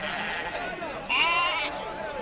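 A sheep bleats once, near and clear, at the Tuesday livestock market in Azrou, with market background and people talking around it.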